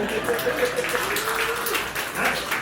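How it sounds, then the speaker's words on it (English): Comedy club audience at Laffs Comedy Caffe applauds a standup set, a steady wash of clapping filling the room at close range, with a voice speaking over it. "give her a round of applause"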